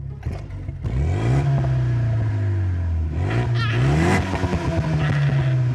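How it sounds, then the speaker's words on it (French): A loud Renault Mégane 3 RS engine revs repeatedly while stationary in RS mode, rising and falling in pitch, with crackling pops and bangs from the exhaust between revs. "je mette le mode RS à l'arrêt pour entendre le pop and bang du pot"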